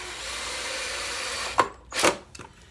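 A power drill drives small zinc-plated screws into thin 3/4-inch wood for a birdhouse, a brief steady whir followed by a few short sharp bursts as the screw seats.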